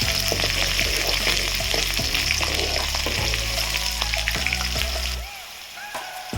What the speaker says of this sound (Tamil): அதுக்கடுத்து 2 பச்சை மிளகாய், அப்புறம் இடித்து வச்சுருக்க இந்த பூண்டு, இது எல்லாத்தையும் போட்டு நல்லா வதக்கி எடுத்துக்கலாம்.